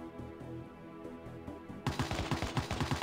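Rapid bursts of AK rifle fire in the mobile game Armored Kitten, a loud rattling volley of evenly spaced shots starting partway through after quieter game ambience, with no talk.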